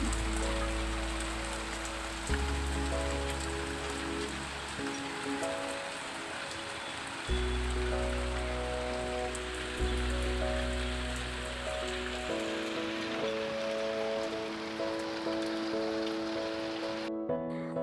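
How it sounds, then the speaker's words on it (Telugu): Rain falls steadily outside, a soft continuous patter that lasts throughout, with a low droning hum running underneath. "బయట వర్షం పడుతుంది"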